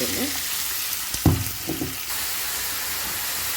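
Onions drop into hot oil and sizzle and crackle loudly. A few stirring knocks follow, then the frying settles into an even, steady hiss.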